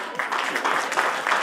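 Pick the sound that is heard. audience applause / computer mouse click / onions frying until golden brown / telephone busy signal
audience applause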